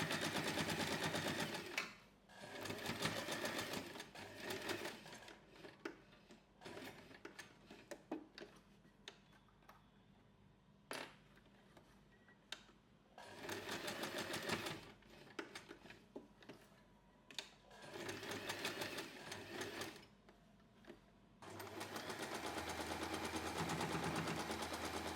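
A sewing machine stitches a snap-button wallet keychain and its lining, running in loud rapid bursts of several seconds each with brief quiet pauses in between, alone without talk.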